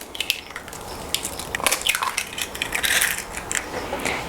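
Eggs cracked into cake batter make faint shell cracks and crunches, a few small sharp clicks and a wet drop, heard up close in a quiet kitchen with no talking.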